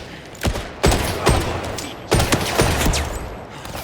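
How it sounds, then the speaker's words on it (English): Gunfire from the video game 007 First Light: loud, sharp shots come in several bursts over a steady background din, with some cracks closely spaced and others standing alone. "Gunfire on top of us."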